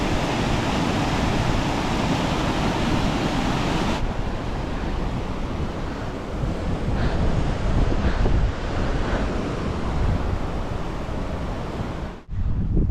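Meltwater from melting ice rushing along a stream on an Everest Base Camp trek between Dingboche and Gorakshep, a steady loud broadband roar with wind buffeting the microphone, continuous throughout before a brief dip near the end.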